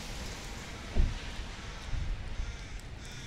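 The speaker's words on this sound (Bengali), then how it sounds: "বৃষ্টি পড়ছে এখনো টিপ টিপ করে" Light drizzle falls at Lake Wendouree in Ballarat, a soft, steady patter of rain outdoors with a brief dull thump partway through and a few gentle swells.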